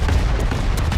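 Warship guns fire in World of Warships, a brief, dense, loud barrage of booming blasts packed into about a second, with no voices over it.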